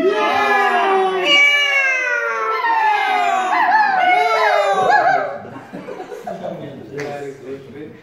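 A voice imitates a cat's meow with drawn-out, sliding wails, followed by softer, choppier vocal sounds.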